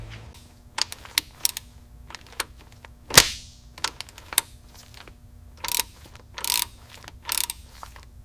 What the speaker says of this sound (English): I'll grab the torque wrench for the front right.